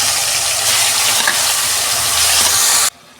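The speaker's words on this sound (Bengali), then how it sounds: "ফোড়নটা ভাজা হয়ে গেছে, আমি কচু শাকটা দিয়ে দিচ্ছি।" Taro leaves hitting hot oil with spice tempering produce a loud, steady, close sizzle and hiss lasting about three seconds before it cuts off abruptly.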